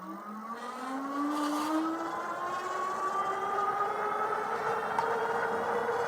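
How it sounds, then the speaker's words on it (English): A Lectric XP 2.0 folding ebike with a 500-watt nominal motor pulls away on throttle alone, its motor whine climbing steadily in pitch as it speeds up, loud and continuous over faint road noise. "pretty peppy motor on this bike, especially when you consider the price"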